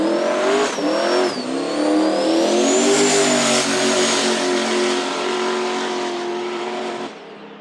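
Drag racing cars launch and accelerate hard down the Knoxville Dragway strip, a loud, sustained, rising engine roar with gear changes that fades slightly before cutting off near the end.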